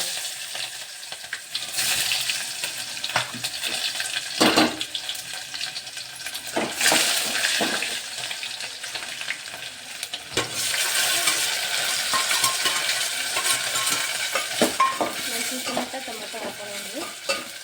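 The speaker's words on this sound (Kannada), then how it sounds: "ಈಗ ಟೊಮೆಟೊಗೆ ಎಣ್ಣೆಗೆ ಫ್ರೈ ಆಯಿತು" Onion and tomato frying in oil with mustard seeds and cumin, a steady close sizzle with stirring scrapes and occasional sharp pops and clinks from the pan, continuing throughout without talk.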